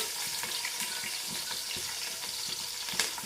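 Onions fry in hot oil for a home chicken curry, a soft continuous sizzle with light stirring taps and scrapes, fairly quiet and without talk.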